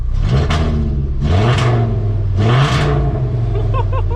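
A VR5-swapped Volkswagen Golf Mk3 engine revs three times in quick succession, each burst rising sharply then dipping briefly and dropping back to a rumbling idle, loud and close.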